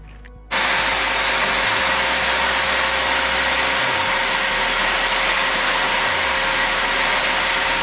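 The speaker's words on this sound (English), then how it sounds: "the first thing we do is actually completely hoover it, clean it, make sure it's all clean" A vacuum cleaner starts up and runs with a loud, steady roaring whine as it hoovers a floor screed on a self-build site before tiling, continuous and close with no speech.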